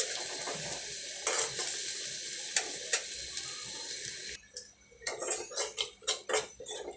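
Spice paste frying in a pan at home, with a steady close sizzle and a few sharp stirring clinks, cutting out briefly before bursts of scraping and stirring return.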